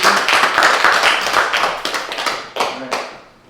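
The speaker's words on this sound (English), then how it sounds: "Can we get one last round of applause for our speakers?" A short burst of applause for speakers from a small crowd at a university discussion, dense clapping at first that thins into scattered claps and fades out.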